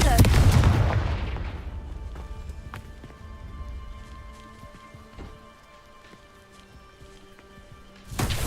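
Confringo fire-blast spell in the Hogwarts Legacy video game: a loud burst at the start, then a long rumbling, crackling tail of scattered debris pops fading off, with another sharp blast near the end.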